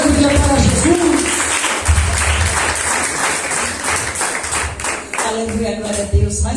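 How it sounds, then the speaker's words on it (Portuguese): A church congregation applauds, with sustained clapping from many hands that is loud and continuous throughout. A voice speaks over the clapping at times. "Vamos receber a pastora com palmas bem alegre?"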